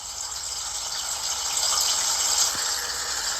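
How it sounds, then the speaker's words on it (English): Constant rush of running water in the background beside a vlogger in the Bronx, a steady close hiss like a stream or waterfall holding at even loudness for a few seconds, with no voices. "what's all that water in the background?"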